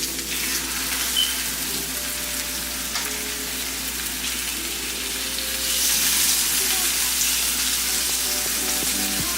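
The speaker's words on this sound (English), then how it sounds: "And now, time to put the steak in." Steak searing in a hot frying pan, a loud continuous sizzle and crackle held close throughout, growing a little fiercer partway through, with no talking.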